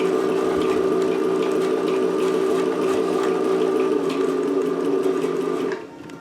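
An Elna Lotus 25 ZZ sewing machine, mostly metal inside, running smoothly at stitch length 4: a steady, close motor whir with fine needle clatter that cuts out near the end.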